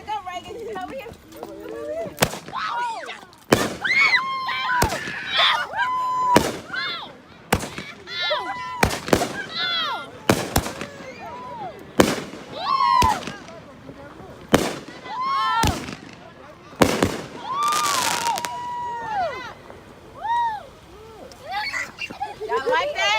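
Fireworks set off for a New Year's Eve celebration burst in a rapid series of loud, sharp explosions spaced every second or so, with people talking and exclaiming between the blasts.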